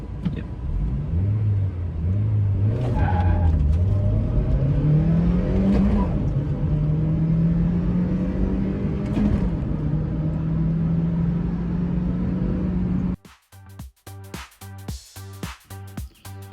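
A high-mileage Mazda Miata roadster on aftermarket wheels accelerates hard from 0 to 60, its engine note climbing through gears with brief dips at shifts, loud and close, before cutting to choppy, broken bursts near the end.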